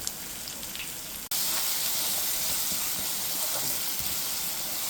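Chopped onion with green chillies and salt sautéing in a pan for a drumstick thoran, giving a steady close hiss and sizzle that jumps louder after a brief cut and then holds evenly.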